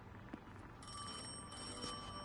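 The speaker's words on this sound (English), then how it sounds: "Is that the phone?" A telephone rings in the video game Destiny 2 as a steady, faint electronic ring held over a low background hum, with no talking.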